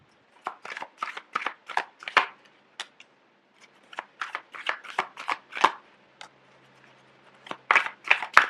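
Tarot cards are shuffled by hand in quick, crisp bursts of riffling and slapping, close and clear, with short pauses between rounds and no talking.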